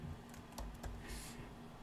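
Faint, sparse keystrokes on a computer keyboard while setting up macOS text input, heard as a few soft clicks over a low steady hum.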